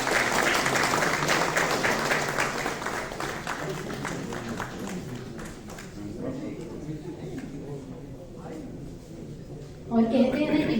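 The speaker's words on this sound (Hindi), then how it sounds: "तालियों की गड़गड़ाहट सुनाई देनी चाहिए।" Audience applause at a book launch in the Constitution Club, New Delhi, dense clapping that fades over several seconds as a voice carries on speaking.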